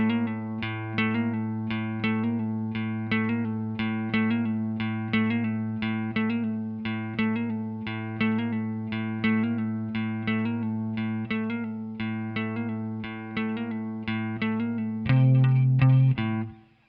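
An electric guitar plays the slowed, straight-feel riff from section 3 of a song, an open fifth string with hammer-ons and pull-offs, repeating steadily alone before a louder held chord at the end.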